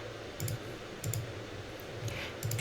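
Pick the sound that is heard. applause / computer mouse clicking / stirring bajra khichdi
computer mouse clicking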